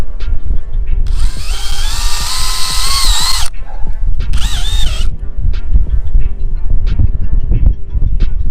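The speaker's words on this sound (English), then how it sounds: "All right, we'll throw a couple screws in there." A power drill drives screws into a wobbly Halloween graveyard fence, with two high whining bursts of the motor, one long and one short, over constant outdoor background noise and scattered knocks.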